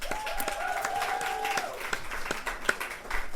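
An audience at a literary fiction reading claps together in a dense, continuous round of applause, with a brief sustained tone early on and scattered sharper claps toward the end.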